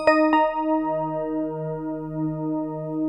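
Behringer Pro VS synthesizer in modern bright voice mode, two quick plucked attacks followed by a steady, bright, buzzy sustained tone rich in harmonics, alone and fairly loud.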